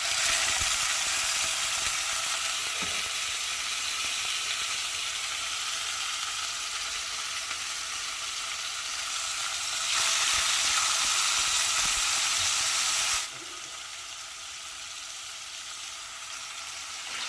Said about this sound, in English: I am putting these into a preheated pan with cooking oil